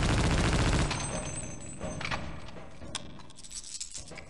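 Gunfire in the Half-Life: Opposing Force video game, a loud burst at the start then a dense, continuous clatter of shots and echoing noise fading slightly over a few seconds.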